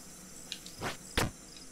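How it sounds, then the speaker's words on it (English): Crickets chirping in the video game Jump King, a faint steady high-pitched trill running throughout, broken by two soft whooshing thumps. "The crickets are too soothing for me."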